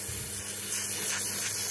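A small sanding machine grinds against a belt in a steady, close, continuous rasp of abrasive friction that holds even throughout, with no voices.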